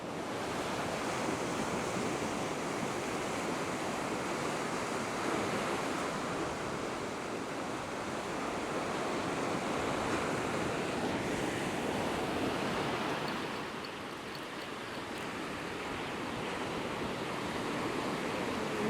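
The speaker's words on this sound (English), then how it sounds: "It's cold, it's windy, it's raining." Steady wind and rain buffet a microphone on a cold, wet coast during a fishing trip, a continuous roaring wash with no talking.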